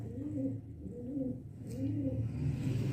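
A pigeon coos in a repeated, rolling rhythm, about four low throaty calls close by, with faint background noise.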